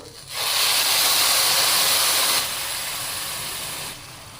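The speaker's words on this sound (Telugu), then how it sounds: "3 కప్స్ నీళ్ళు పోసుకుంటున్నాను." A steady rushing hiss of three cups of hot water being poured into a pot, loud for about two seconds, then continuing slightly softer before stopping.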